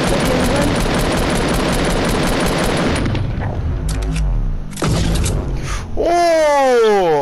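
Rapid video-game gunfire rattles in a dense burst, then sparser shots and whooshing, swooping effects follow while players talk excitedly over it.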